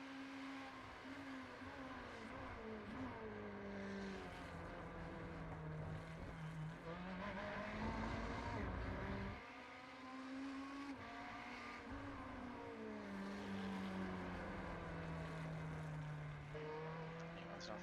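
Ferrari 488 race car engines in iRacing at the Nürburgring GP circuit, a steady droning whine with gears rising and dropping as several cars run together, under commentator talk.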